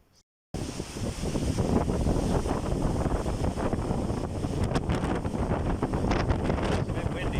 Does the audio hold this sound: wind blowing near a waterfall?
yes